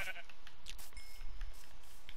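Minecraft sheep bleat in short repeated calls over a couple of seconds, close and clear, with faint game noise beneath and no speech.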